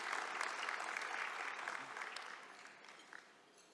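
A crowd applauds at a 2023 scholarship awards ceremony, a soft, steady wash of clapping from a fairly distant audience that gradually fades toward the end.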